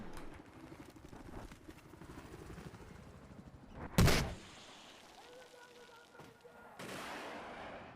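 A single loud, sharp gun blast rings out against a tank in Battlefield 4, standing out from a background of rumbling battle noise, engine hum and distant scattered firing.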